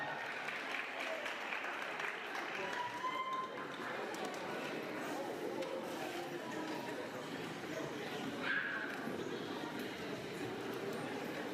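An audience at a university graduation ceremony gives sustained applause, a steady wash of many hands clapping at moderate distance with crowd murmur blended in.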